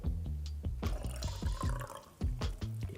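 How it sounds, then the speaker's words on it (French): Water and oil are poured into glass jars, a close, quiet run of glugging and splashing with bubbly, trickling pours and small drips, no talk. "verse l'huile dans le deuxième bocal et l'eau dans le premier"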